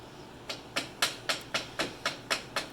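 A part on a Nissan 350Z engine, near the power steering pump, is tapped into place with eight evenly spaced, sharp metallic taps about four per second, close and clear with no talking.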